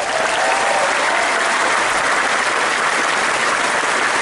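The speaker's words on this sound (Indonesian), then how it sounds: "saya ingin minta tepuk tangan yang paling meriah kepada dua ketua umum kita" A large audience claps loudly for the party chairs at a PSI party speech in Indonesia. A dense, continuous roar of applause holds at a constant level throughout, close and full, with no voices over it.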